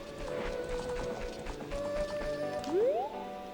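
Epona the horse pony in the game Zelda: Ocarina of Time makes steady clip-clop hoofbeats under game music, with a rising tone sweep near the end; no one speaks.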